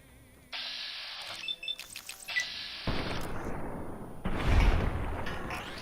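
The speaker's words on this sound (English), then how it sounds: "someone's got a grenade rifle like an ass" Explosive blasts from a grenade rifle in a first-person shooter game, a string of booming detonations and bursts of gunfire-like impacts that build in loudness toward the end, with no talk over them.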